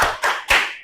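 An Indonesian eighth-grade class claps out the 'tepuk salut' chant: three sharp, loud, close claps in a quick, even rhythm, with the last one ringing out briefly.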